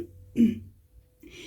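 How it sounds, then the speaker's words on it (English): A single close throat clearing, a short rough rasp from a woman with a congested chest, is followed by a quieter breathy sound. "if you hear me clearing my throat, apologies"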